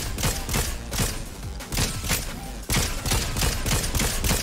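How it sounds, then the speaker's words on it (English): Rapid bursts of gunfire in the Fortnite video game, dense and loud, with shots repeating in quick clusters across the whole stretch and brief gaps between volleys. "Ooh, the amount of shots I'm getting off on this person."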